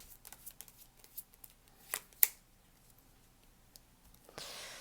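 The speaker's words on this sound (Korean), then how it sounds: "우리 1번 분들 조언 카드 뽑아 볼게요" Quiet crisp rustles and flicks of tarot cards being shuffled and drawn up close, with a few sharper snaps and a soft slide near the end.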